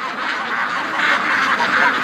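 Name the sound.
ducks quacking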